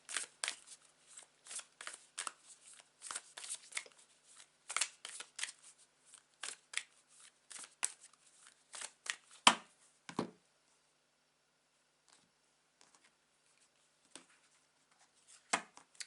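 Oracle cards being shuffled by hand during a tarot reading, a run of crisp riffling bursts and snaps for about ten seconds, then only a few scattered taps against near silence.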